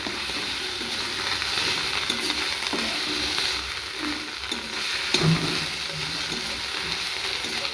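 Radish greens paste frying in a pan for a mashed radish-leaf bharta while being stirred, giving a steady close sizzle broken by occasional scraping strokes, with no talking.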